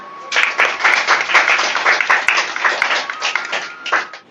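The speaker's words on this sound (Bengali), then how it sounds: "একটা করতালি দেন।" An audience applauds at a children's painting competition event, producing dense, loud, continuous clapping close by that swells and holds for about four seconds before cutting off, with no voices over it.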